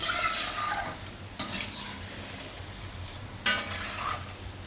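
Poha manchurian balls frying in hot oil, with a constant close sizzle and two sharp bursts of crackling as more balls drop into the pan.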